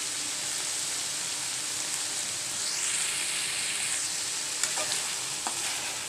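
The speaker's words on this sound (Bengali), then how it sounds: "এটাকে এখন আমি চুলায় আস্তে আস্তে ভাজা ভাজা করব, তেলের উপরে এটা ভাজা ভাজা হবে।" Dried fish (shutki) frying in hot oil on a stove, a steady close sizzle with soft stirring scrapes, brief higher hisses partway through, no voices.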